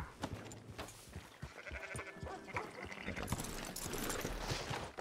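Several sheep bleat in the video game Red Dead Redemption 2 over a busy background of soft thuds and hoof-like clops, fairly quiet and somewhat distant.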